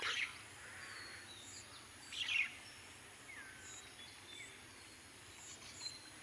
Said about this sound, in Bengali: এই মধুর সুর পাখিদের